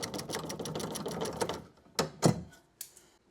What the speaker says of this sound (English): So get your ratchet and loosen that 10mm there.